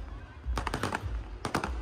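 Fireworks at a Dussehra fair burst in rapid crackling volleys, two clusters of sharp cracks over a low crowd rumble, moderately close, with no clear speech.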